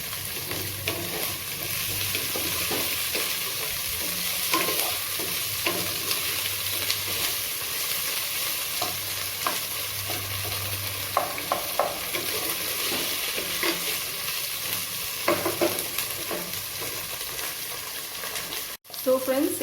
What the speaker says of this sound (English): Okay, so now I will give the potatoes.